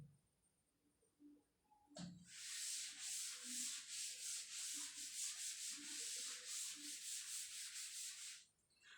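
Writing is rubbed off a classroom board in a close, steady run of brisk scrubbing strokes lasting about six seconds, after a sharp knock at the start, with no speech.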